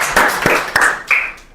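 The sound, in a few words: audience applause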